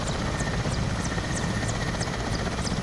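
An Mi-17MTV5 helicopter in the DCS flight simulator, heard from outside with a steady, loud rotor and engine roar and a rhythmic blade chop running throughout.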